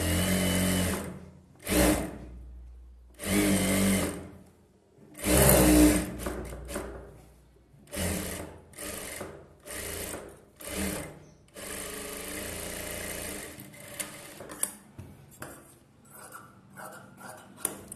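A sewing machine stitches the lining of a size 39 blouse in a series of short whirring bursts with gaps between, then a longer softer run of stitching, close and clear with no talk.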